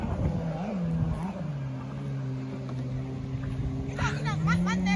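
A boat approaches and passes on a river at a camping spot, its engine a steady low droning hum that holds throughout and swells slightly near the end, with a brief splashy rush.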